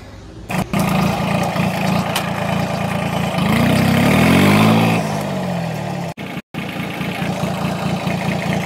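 A tractor pulling a trailer runs loud and steady nearby with a deep engine rumble, rising briefly in pitch midway as it revs, then dropping back to a constant drone.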